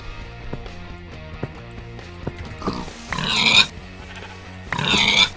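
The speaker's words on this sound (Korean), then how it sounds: "야 돼지들아 너네 진짜 좋은 애들이구나" Pigs in the video game Minecraft grunt and oink in two short, loud bursts over a steady background music track.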